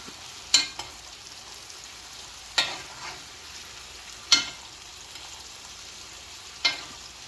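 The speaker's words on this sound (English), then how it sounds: "And we're just going to baste that." Ribeye steak basted with thyme in a hot pan, a faint steady sizzle under four sharp, evenly spaced scraping spoon strokes as fat is ladled over the meat, close and otherwise quiet.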